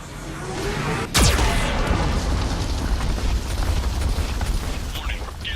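A Geth cannon firing in the Mass Effect 2 video game: one sharp, heavy blast followed by a long rumbling roar that stays loud, with a voice briefly present.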